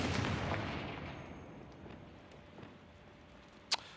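A fiery Confringo explosion spell goes off in the video game Hogwarts Legacy inside a mine, opening with a deep boom that fades out, followed later by a single sharp crack.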